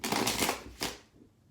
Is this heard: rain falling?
no